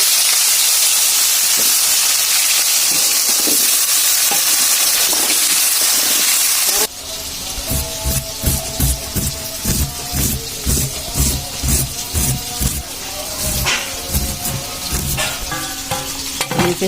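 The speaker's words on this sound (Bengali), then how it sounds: "আর এখন আলুগুলো ভেজে নিব।" Potatoes fry in a pan with a steady close hiss at first, then a busier sizzle broken by repeated stirring and scraping clatters for the rest of the stretch; no talking.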